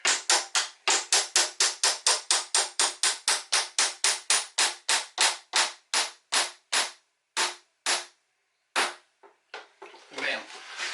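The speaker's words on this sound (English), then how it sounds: "We're just gonna tap it in there nice and easy." A hammer taps a hinge pin into a Flambeau Tuff Crate in a rapid, steady run of about twenty-five sharp, close, loud knocks, which then slow to a few spaced strikes and trail into light handling noise.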